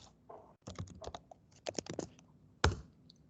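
Login credentials are typed on a computer keyboard: irregular bursts of close, crisp keystrokes with short pauses, ending in one sharp, heavier key press like an Enter tap, no voices.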